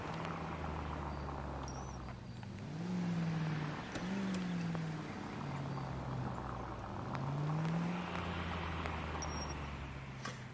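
A 1940s Los Angeles police car in the L.A. Noire video game drives along, its engine humming low and steady, rising and falling gently through shifts and turns, with no talk over it.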